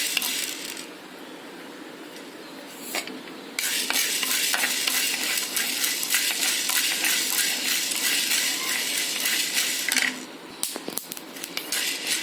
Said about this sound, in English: So you can hear the sound of bursting.